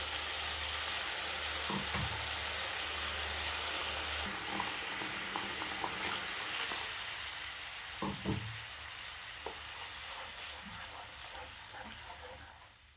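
A ground onion and tomato paste for fish curry gravy simmers with a soft, steady bubbling sizzle, punctuated by a few utensil knocks.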